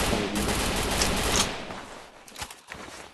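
Gunfire in a shooter video game: a dense burst of rapid shots fills the first second and a half, then fades into a few scattered, sharper single reports and clicks, with no talk.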